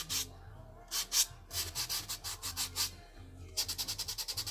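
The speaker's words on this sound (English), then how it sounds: "I'm going to go around the edges a little and sand this design back a little." A soft sanding sponge rubs back a painted design in quick, rhythmic bursts of scratchy strokes, close and fairly quiet, with short pauses between sets.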